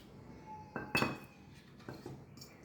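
A spoon clinks against a pot or bowl while tamarind juice and powdered jaggery are stirred together for Ugadi pickle; a few sharp metallic taps and scrapes, close and fairly quiet, with no talk.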